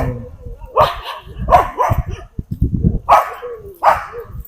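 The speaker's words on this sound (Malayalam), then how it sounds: "നായ്ക്കൾ ഫുള്ള് സീനാണല്ലോ" Dogs bark at night in Matheran in separate sharp bursts, a few barks at a time with short gaps, moderately close, with faint background noise between.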